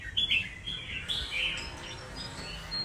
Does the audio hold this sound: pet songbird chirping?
yes